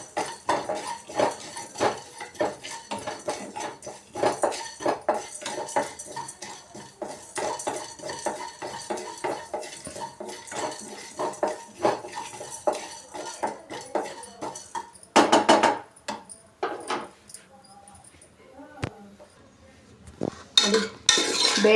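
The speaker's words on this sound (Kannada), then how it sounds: "ಪೌಡ್ರ್ ಮಾಡ್ಕೊಳ್ಳೋದಕ್ಕೆ ಇದನ್ನು ಫ್ರೈ ಮಾಡ್ಕೋತಾ ಇರೋದು." Lentils and spices dry-frying in a pan for a mango rasam powder, stirred with a metal ladle that scrapes and clinks against the pan in a quick, steady rhythm, close and without speech, pausing briefly near the end.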